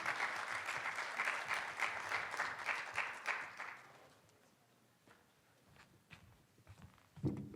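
Brief applause from a small outdoor audience at a new student orientation on a blustery afternoon, a few seconds of clapping that fades out, followed by quiet wind noise and scattered knocks.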